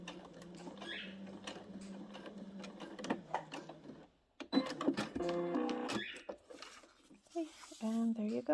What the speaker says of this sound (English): I'm trying to stitch right on top of where the original stitching was.